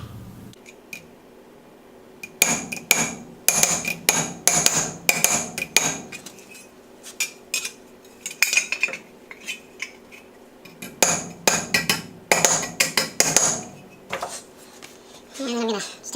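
Metal hammered on an anvil during restoration work on a Chevelle, sharp ringing strikes in two rapid clusters separated by a quieter pause, close and loud, with someone talking at the start.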